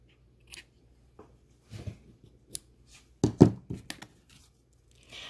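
Crafting snips cut seam binding ribbon in a few short, quiet snips, with soft handling and rustling sounds between them and silence in the gaps.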